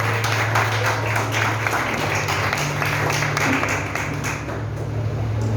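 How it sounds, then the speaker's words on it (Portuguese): Congregation applauding at a church service, a sustained dense mass of clapping from many people, loud and continuous, with a low steady tone running underneath. "Quantos podem aplaudir o Senhor nessa noite?"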